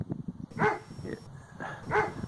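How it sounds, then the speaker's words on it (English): A dog barks a few times in the distance, short sharp yaps spread over a couple of seconds against a quiet outdoor background. "Do you hear the dog barking?"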